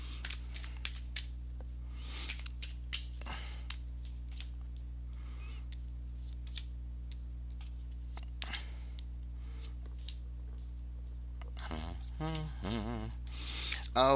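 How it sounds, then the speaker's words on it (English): Soft papery riffling of tarot cards being shuffled in short bursts, with a brief crinkle and faint voice near the end. "let me go ahead and give these cards a shuffle"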